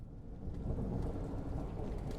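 Steady rumbling downpour with low thunder-like roar in the Rain World: Downpour game, a dense continuous wash of rain noise with no voices.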